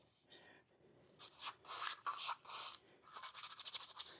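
A cheap paintbrush scrubs paint into the grooves of a boat trailer being rebuilt, with quiet, close bursts of bristle rubbing in a series of short strokes that grow more rhythmic toward the end.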